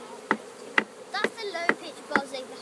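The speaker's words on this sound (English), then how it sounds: "This is just the sound of bees." Honeybees buzzing around a hive as a swarm settles into a new home, a close, busy drone with individual bees whining past, over a few regular soft knocks.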